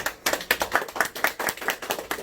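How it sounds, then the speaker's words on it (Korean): Audience applause greets a speaker at a smart factory lecture: a lively run of sharp, close hand claps in an uneven rhythm, steady and fairly loud throughout with no talking. "큰 박수로 모시겠습니다"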